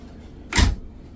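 A 10-cubic-foot refrigerator door in a 2026 Winnebago View 24R motorhome on a Mercedes-Benz chassis latches shut with a single short, solid thunk, close by and alone with no talk.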